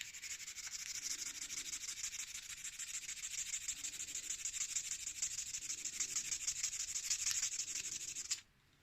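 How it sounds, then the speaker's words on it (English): Sandpaper of 240 grit rubs steadily against a rusty junkyard cast iron skillet, a continuous close rasping hiss with subtle back-and-forth stroke pulses that stops abruptly near the end. "So just do a bit of sanding and one more layer of oil and come back."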